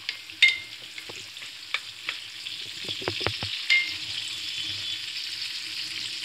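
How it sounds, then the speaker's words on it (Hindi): Thinly sliced ginger frying lightly in a pan for Afghani daal mash, a soft, steady sizzle with occasional clicks and scrapes of stirring close by. "इसको हल्का सा फ्राई कर लेंगे।"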